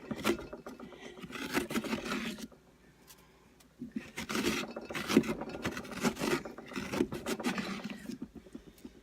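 A scraper rasps repeatedly against the inside of a hollowed pumpkin being cleaned out for a jack-o-lantern, close scratchy strokes in uneven bursts with a short pause partway, no talk.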